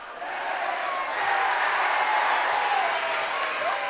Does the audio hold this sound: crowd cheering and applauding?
yes